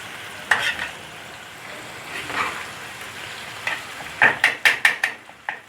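Mutton fries on a tawa over medium heat with a low, quiet hiss, broken by a few spatula scrapes and a quick run of sharp stirring clinks near the end.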